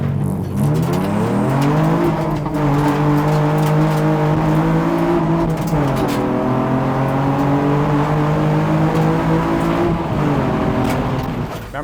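A J35 engine in a Honda TSX road race car runs steadily and loudly, its pitch rising and falling in a few smooth swells as it revs throughout.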